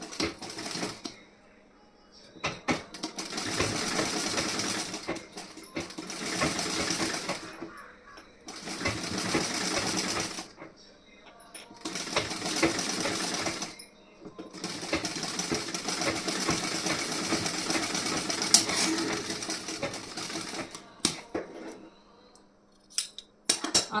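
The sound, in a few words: sewing machine stitching a blouse front placket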